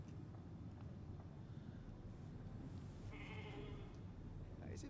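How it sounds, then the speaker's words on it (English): Sheep bleating in the video game The Alters, a single wavering bleat rising briefly out of a low ambient game background partway through, fairly faint, with no talk over it. "Pet the sheep."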